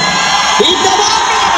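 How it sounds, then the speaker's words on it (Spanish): A crowd at a university lasso-roping rodeo tournament in an arena cheers and shouts, a dense, loud roar with whoops rising over it for a brief moment. "¡Díganle el aplauso al ITVM!"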